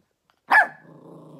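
A small dog gives one sharp, close bark that trails into a low, rumbling growl. No one speaks.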